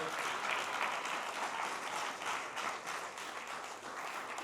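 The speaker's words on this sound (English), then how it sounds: "Clap for that." Crowd applause fills a hall honoring a basketball Hall of Famer, steady dense clapping from many hands, loud and sustained throughout without pause.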